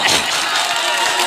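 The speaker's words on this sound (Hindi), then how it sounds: "ताली बजाओ" An audience at a Hindi poetry recital breaks into clapping: a dense, even wash of applause with faint crowd noise, steady for just over a second.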